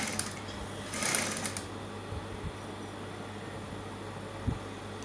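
A sewing machine runs steadily, stitching the seam of a lace bustier dress, its even mechanical whir continuous and close, with a faint click or two and no speech.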